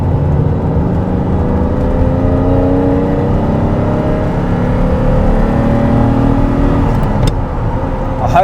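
A Ferrari 512 TR engine revs continuously while the car is driven, its loud, steady roar rising and falling through the gears with gliding pitch sweeps and a brief sharp knock near the end.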